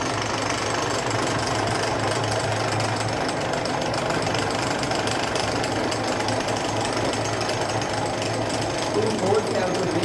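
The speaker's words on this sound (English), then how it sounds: "So this is a drilling machine, and we start the drilling machine." A drilling machine bores 4 mm holes through a metal sheet, a steady loud mechanical whine and rattle running continuously throughout, with someone talking over it.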